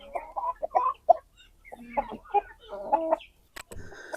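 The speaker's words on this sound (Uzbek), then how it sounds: "Xo'roz keldi, cho'jalar sekin chekindi." A rooster and young chicks cluck close by, a run of short throaty clucks and chirps in quick bursts, followed by a brief sharper call near the end, with no talking.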